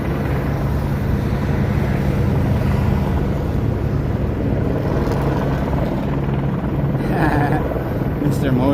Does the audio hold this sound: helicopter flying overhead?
yes